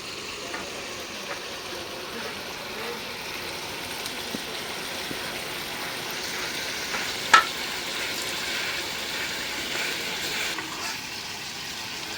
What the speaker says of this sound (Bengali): মশলার সাথে মাছটা একটু কষাই নিলাম